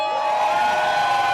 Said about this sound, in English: Great crowds here.